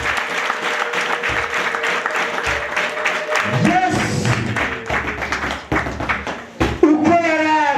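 Congregation clapping in a church during a lively worship service, a steady rhythmic clapping running throughout with a rising swell of cheering partway through, under singing and talk.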